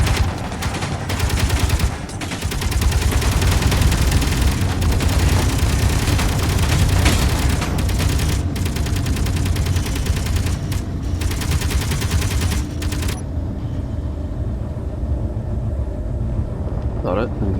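Enemy turret gunfire in Space Engineers, rapid bursts of loud shots rattling over a dense rumbling background, continuing steadily and then falling quieter near the end.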